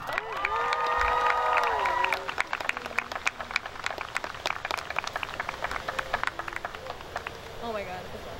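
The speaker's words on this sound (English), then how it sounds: "Let's give them a loud round of applause." A high school homecoming ceremony crowd cheers and screams loudly, then breaks into sustained applause with scattered shouts and whoops continuing throughout.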